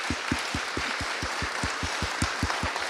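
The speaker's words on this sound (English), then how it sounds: "Round of applause, please," An audience applauds Andy Burnham at a mayor's question time event, a steady run of close, evenly spaced claps that sound like a modest crowd clapping together.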